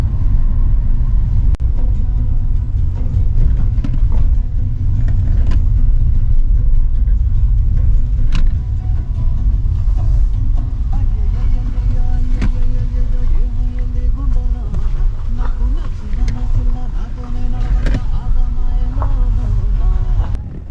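A car driving over a rough, potholed mountain road in Costa Rica after recent rains, its steady engine and tyre rumble loud and close, with low bumping jolts along the way and no speech.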